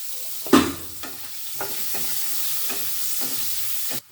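Potatoes sautéing in a pan for a Bengali broccoli sabji, a steady close sizzle broken by several sharp spatula scrapes and stirring clatters, no voices.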